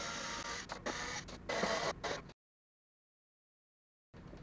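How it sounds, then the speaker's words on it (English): Screwdriver backing wood screws out of the original lead-acid battery pack on a Toyotron electric scooter, giving close, gritty, whirring bursts for about two seconds, then a long silence before a short burst of the same sound. "See if my screwdriver holds out long enough. Wood screws."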